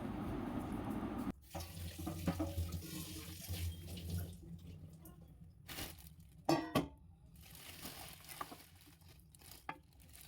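Kitchen tap running at a sink while chicken is washed, a steady water flow under clinks and splashes that then gives way to intermittent dripping, handling and knocks.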